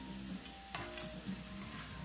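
Butter and olive oil sizzle steadily in a pan while pork chops are sautéed, a soft continuous frying hiss with a few light clinks and stirring taps.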